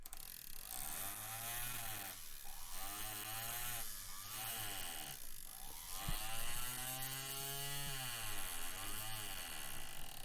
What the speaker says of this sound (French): Nous venons d'utiliser le marteleur pour rabattre le métal autour de la pierre afin qu'elle soit emprisonnée